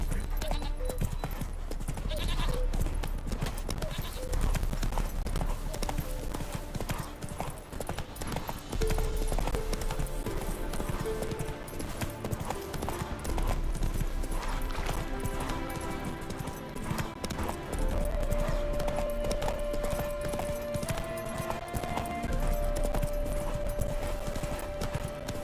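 Hooves clip-clop in a steady galloping rhythm as a horse runs in The Witcher video game, with game music and ambience layered underneath throughout.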